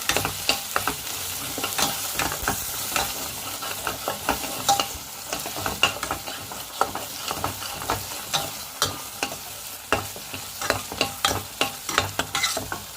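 Gravy paste with chili powder and turmeric frying in a pan while being stirred, a steady sizzle broken by a repeated rhythm of spoon scrapes and knocks against the pan, with no talking.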